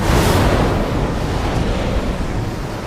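Ocean waves roll in a loud, dense roar of surf that stays close and steady throughout, with no voices.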